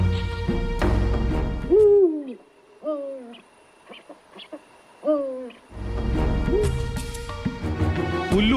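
An owl gives several clear, close hoots spaced a second or two apart, which stand out in a quiet gap between louder stretches of background noise at the start and end.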